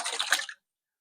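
Water is poured onto garden plants, including jasmine, in a brief soft splashing trickle that lasts about half a second and then stops.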